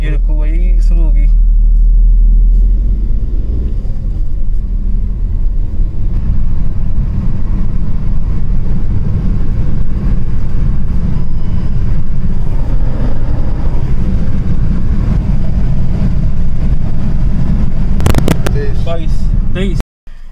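A 2022 Kia Sonet accelerates hard from a standstill in second gear during a speed test, its engine roaring loud and continuous under heavy rumble, with wind noise throughout and a brief sharp click near the end.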